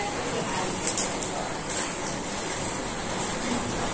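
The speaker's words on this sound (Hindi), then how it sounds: "यहाँ पे बहुत सारी बारिश हो रही है" Heavy rain pouring down steadily, a dense, even rushing hiss that holds at a constant loud level throughout with no breaks.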